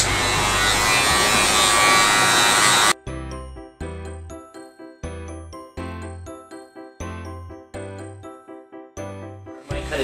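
Electric hair clippers cutting a man's hair buzz loudly and steadily for about three seconds, then stop. A run of bright, evenly spaced chiming tones follows.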